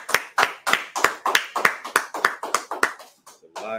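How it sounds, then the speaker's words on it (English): Several people clap their hands in a steady, quick rhythm of about a dozen sharp claps, close and fairly loud, slowing and fading near the end. "let's clap it up"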